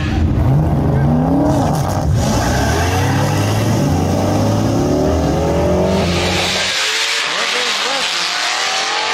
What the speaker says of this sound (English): Westen, stock clutch holding up for the first lap, gets to the finish line first against the Pursuit Ute